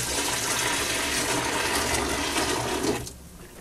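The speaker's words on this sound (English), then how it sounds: "I'm going to pour that" Hot home-brewed Irish stout is poured into a fermenter, a steady, loud gushing splash lasting about three seconds before it stops abruptly and leaves a quiet room.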